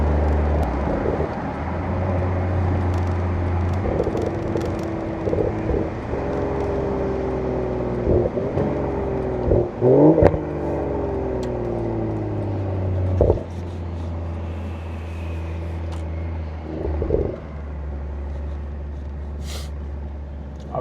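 A BMW X3 M40i revs and accelerates, its exhaust rising and falling in pitch through several pulls with crisp shifts and brief gaps, loud and close, with no voices over it.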